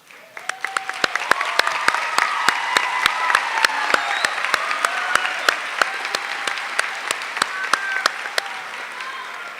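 A high school graduation audience gives the standing faculty a warm round of applause, sustained clapping filling the hall with a few sharper, closer claps punctuating the steady wash and faint cheering beneath.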